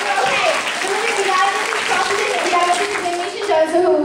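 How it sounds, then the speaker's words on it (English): Audience applause at a cosplay mock court event at Connecticon 2010, steady dense clapping from a crowd filling the whole stretch, with cheering voices and a voice mixed in. "Round of applause for the bailiffs."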